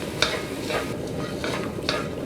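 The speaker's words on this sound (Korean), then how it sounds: "마늘이 노릇노릇하게 볶아지면은 이때 새우를 넣고 볶아주세요." Dried shrimp and minced garlic stir-fry in oil over medium heat, a steady close sizzle broken by a few scraping stirs of a spatula against the pan.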